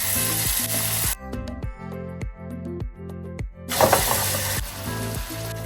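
Fish frying in oil in a clay pot, a bright steady sizzle that drops out briefly in the middle while a rhythmic ticking mechanical clicking carries on, then the sizzle returns. No voices.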